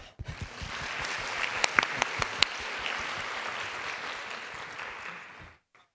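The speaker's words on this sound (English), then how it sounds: "let's give our professors a round of applause" Sustained applause from an audience in a university lecture hall after a talk, steady dense clapping with a few sharp louder claps, lasting several seconds before cutting off abruptly.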